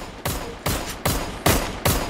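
Gunfire in a battle royale video game: five loud, sharp shots spaced roughly half a second apart, each a broadband burst with a short decay, close and prominent with no talk over them.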